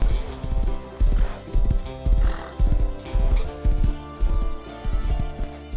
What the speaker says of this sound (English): I'm just gonna take my horse and get out of here.